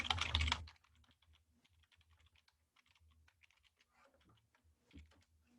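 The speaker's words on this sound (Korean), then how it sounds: "이렇게 해서 타이핑 하시면 되죠" Keys on a computer keyboard tapped in a steady run of light, close clicks after a brief loud noise at the start, with a few soft pauses and no talk.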